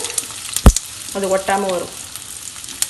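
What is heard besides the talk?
elephant foot yam (senai kizhangu) frying in hot oil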